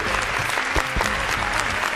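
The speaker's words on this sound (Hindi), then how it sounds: "जोरदार ताली सबके लिए" An audience at a talent-show rapping episode claps loudly and densely with a little crowd noise, the applause filling the moment.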